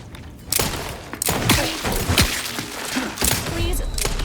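Gunfire in the video game Outer Worlds 2, several loud sharp bursts and thumping shots in quick succession, with a voice speaking between the shots.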